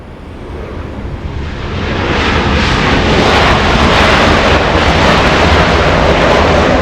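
A Boeing 747 jet flying as Air Force 2 near LAX, with a loud broad roar that swells over the first few seconds and then holds steady, no talk.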